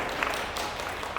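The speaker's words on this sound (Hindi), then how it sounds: "ताली तो बजा अपने आप के लिए।" A church congregation gives a dense, steady round of applause at a Hindi preaching service, loud and close for a brief moment.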